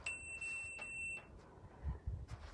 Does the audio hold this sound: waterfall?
no